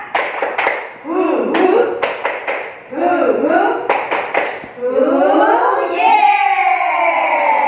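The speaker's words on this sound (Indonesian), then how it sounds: "yuk kita tepuk tangan dulu. Tepuk semangat." A group performs the 'tepuk semangat' rhythmic clap pattern, sharp bursts of clapping in patterned sets alternating with chanted group voices, ending in a sustained shout together; close and loud.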